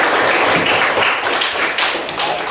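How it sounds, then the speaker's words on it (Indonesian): A classroom claps after a group presentation, a dense, loud burst of applause filling the short stretch with no clear talk above it. "Tepuk tangan dulu."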